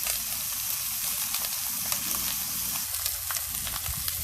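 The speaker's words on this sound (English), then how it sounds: "Sizzling" Steady, loud sizzling of pompano fish on a hot grill, a continuous crackling hiss with no voices.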